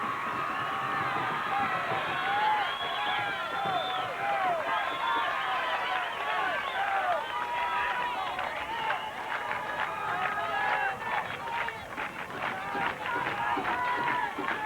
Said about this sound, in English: A medium-sized crowd, but showing a standing room only level of enthusiasm.